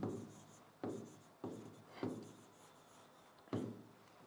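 Short scratchy strokes of chalk or marker on a board form letters, five distinct scrapes spaced unevenly, each sharp at the start and fading, faint and close with no talking.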